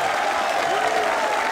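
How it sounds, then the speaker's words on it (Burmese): Audience applause at the MMCD 2019 event, a dense, loud wash of clapping from a crowd, with a voice faintly mixed in. "အဲ့ဒီအောင်မြင်မှုအတွက်လက်ခုပ်တန်လေးဂုဏ်ပြုပေးပါခင်ဗျာ"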